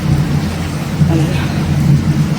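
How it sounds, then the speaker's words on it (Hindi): Heavy evening rain pours down during a humid-season thunderstorm, a loud continuous hiss with low rumbling thunder rolling underneath and faint speech in the background. "बारिश एटलीस्ट रिकॉर्ड कर लेते हैं"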